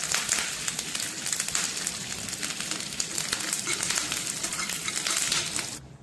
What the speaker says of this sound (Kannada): ಸ್ವಲ್ಪ ಕೆಂಪು ಮೆಣಸಿನಕಾಯಿ ಪೀಸಸ್ನ ಹಾಕ್ತಾ ಇದ್ದೀನಿ. ಬೇವಿನ ಗರಿಯನ್ನು ಹಾಕ್ತಾ ಇದ್ದೀನಿ.